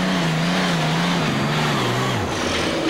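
A tractor-pulling machine named Hobo makes its first competition pull at a 1995 European event in Herning, Denmark; the engine roars loud and steady, its low drone holding pitch before sagging and dropping lower near the end.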